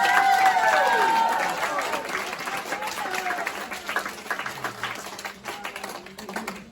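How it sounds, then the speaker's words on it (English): A graduation ceremony audience applauds loudly, steady clapping that gradually thins out and fades over several seconds. "Let's give Sergio another round of applause"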